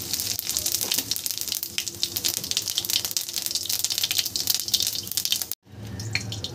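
Cumin seeds sizzle in hot oil left over from frying potatoes, tempering for a Bengali egg bora curry, with a steady crackling hiss near at hand that cuts off abruptly and then resumes more quietly.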